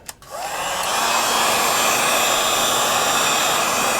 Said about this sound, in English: let's apply a little heat.